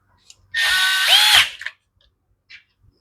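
A power drill drives the base screw back into a Husqvarna machine during a coil replacement, one loud whirring burst of about a second that rises in pitch, followed by a few faint clicks and taps.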